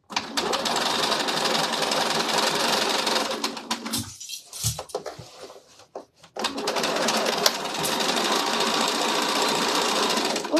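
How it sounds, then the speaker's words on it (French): A sewing machine stitches the corner of a fabric pouch in steady, rapid bursts, stopping briefly midway for a short pause with light handling sounds before running again, close and alone. "Couture à 1 cm de l'angle, la deuxième angle."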